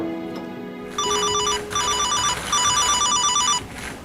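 A phone rings in repeated electronic bursts, several rings with short gaps between them, clear and close, after a low tone at the start.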